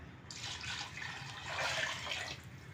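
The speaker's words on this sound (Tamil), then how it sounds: "இந்த அளவு தண்ணியை நம்ம ஊற்றிடலாம்." Water poured into a pot of rice for chicken biryani, a continuous splashing gush that runs for a few seconds and grows fuller and louder midway, close and alone.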